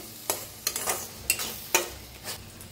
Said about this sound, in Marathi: एक मिनिटभर असं छान असं भाजून घ्यायचा मसाला